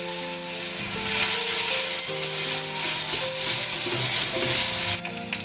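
Cumin seeds, dried red chili, turmeric and a ginger and green chili paste fry in oil for a vegetarian banana flower ghonto, a loud, close sizzle with scraping stirs throughout and no talking.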